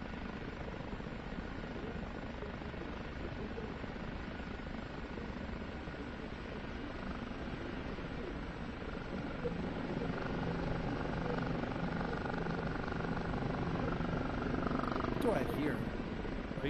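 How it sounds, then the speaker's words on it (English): A helicopter rotor in a flight simulator game drones steadily under soft talk, a low throbbing hum that swells slightly louder toward the end. "No, you're hearing another helicopter."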